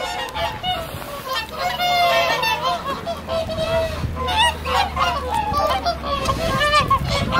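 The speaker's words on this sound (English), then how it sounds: "we can see all these geese or swans." A large flock of geese or swans gathered on the last open patch of water on a frozen lake in Reykjavik, Iceland, honking continuously and overlapping, loud and close, with no talk.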